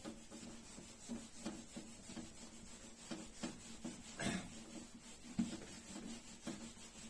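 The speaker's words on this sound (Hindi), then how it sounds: "मैं यहाँ पे रब कर रहा हूँ इसको" An object rubbed by hand, likely against wood, giving a repeated scraping rasp in an uneven rhythm, close and moderately loud, with one sharper knock near the middle.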